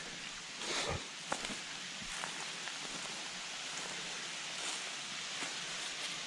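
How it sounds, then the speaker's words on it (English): A large waterfall heard from a rocky pass on a wild-camping hike: a steady, broad rushing wash of falling water, continuous and even, with a few faint knocks and footsteps over it. "Oh, there's a huge waterfall over there."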